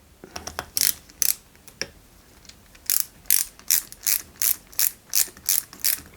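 A screw is driven into a 1/8 scale Oracle Red Bull RB19 model car with a ratcheting screwdriver, producing a close series of sharp, evenly spaced clicks in short bursts.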